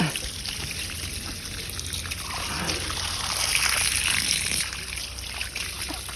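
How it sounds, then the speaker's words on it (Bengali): Water is poured onto the soil around a fig tree, a continuous trickling and splashing that swells in the middle and then eases, close and fairly soft. "গাইস আঞ্জির গাছটাকে অনেক জল দিয়ে দিয়েছি"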